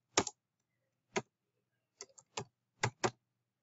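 A computer keyboard is typed on in short, separate key clicks, six or so, irregularly spaced and crisp, close and quiet, with no voices.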